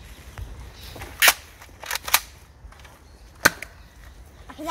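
X-Shot Excel Vigilante toy foam blaster fired outdoors in woods, a few sharp snapping shots spaced apart over faint outdoor background, close and fairly loud.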